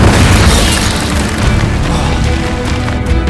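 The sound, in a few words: Incendio spell blast in the video game Hogwarts Legacy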